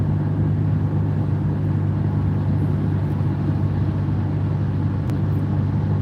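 Car cruising and accelerating on an expressway, heard from inside as a steady, continuous low engine and road drone with no speech.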